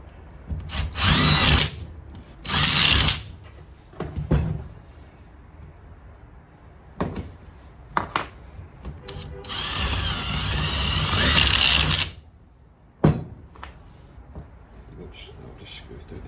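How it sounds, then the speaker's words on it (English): Impact driver fitted with a small drill bit, driving into wood during a micro camper conversion build: several loud bursts of whirring and hammering, with short bursts and a longer sustained run, and speech in between. "I've got wee drill bits that fit onto your impact driver."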